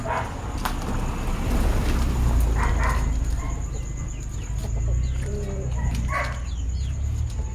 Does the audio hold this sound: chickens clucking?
yes